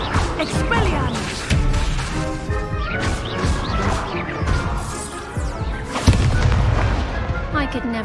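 Spell impacts and crashes from a wizard duel in the video game Hogwarts Legacy, as an Expelliarmus disarming spell is cast; loud repeated bursts and thuds over a busy mix of game effects, with voices speaking at times.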